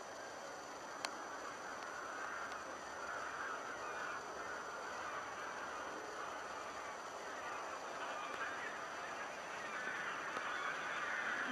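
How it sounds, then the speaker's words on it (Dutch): Large flocks of geese honk in a polder nature area, a continuous distant chorus of overlapping calls carried on an open outdoor hush, faint and steady throughout. "Grote groepen ganzen"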